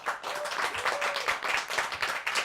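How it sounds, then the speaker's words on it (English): A small studio audience at a campus TV talk show claps for the guests, a light, moderately quiet patter of hands with gently pulsing rhythm throughout. "let's give one more round of applause to our amazing guests, Emily and Daniel"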